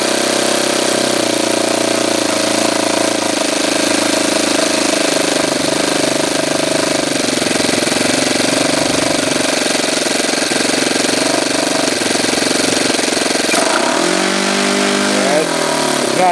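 A Saito twin-cylinder model airplane engine running steadily and loudly close by, a dense buzzing drone that shifts pitch near the end as the throttle moves.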